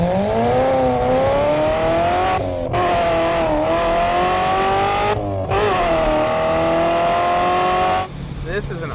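Car engine revving hard while driving, near and loud with rising and falling pitch through gear changes and brief gaps between shifts, with a voice talking over it.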